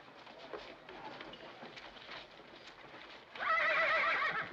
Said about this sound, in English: You scare my horse